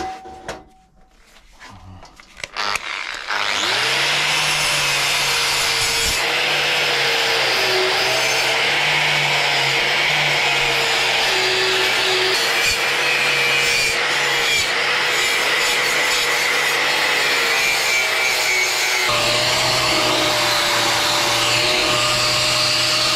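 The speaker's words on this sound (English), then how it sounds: "I've got this cut brush on the grinder. I'm actually going to try and dig some of the rust out now" An angle grinder fitted with a wire cup brush scrubs rust off a Yamaha XT600 motorcycle sump guard, giving a loud, steady high whine with a continuous scratchy rasp that runs for about twenty seconds after a brief quiet start.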